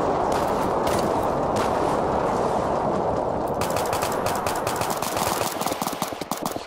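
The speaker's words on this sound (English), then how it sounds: "I'm getting shot" Rapid video game gunfire from a minigun during a moonbase assault, dense continuous bursts of shots and impacts, loud and close, rattling on throughout with no talk.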